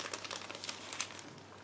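A small plastic bag holding a decal sheet and a small PE fret crinkles close up in a quick series of sharp, crackling rustles.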